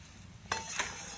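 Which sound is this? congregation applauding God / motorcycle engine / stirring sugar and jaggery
stirring sugar and jaggery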